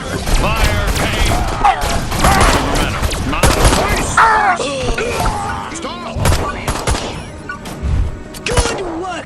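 Rapid gunfire and thudding impacts in the video game Destroy All Humans! remake, bursts of shots layered with shouting voices and game effects throughout.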